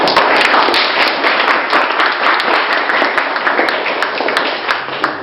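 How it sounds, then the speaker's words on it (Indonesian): An audience of students claps for the presenters at a school ecoenzyme science event, a loud, sustained burst of dense applause that slowly thins toward the end. "kita kasih tepuk tangan dulu"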